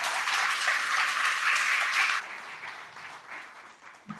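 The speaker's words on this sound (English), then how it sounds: "give them a quick round of applause if they're listening" A short burst of applause greets the robotics competition winners at an awards ceremony, a dense clapping wash for about two seconds before it thins and fades.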